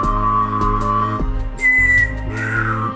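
A person whistles and hums at once to mimic an alien spaceship, aiming the sound at the walls of a house so it echoes around. A steady low hum runs throughout while the whistle glides and then jumps higher, loud and near.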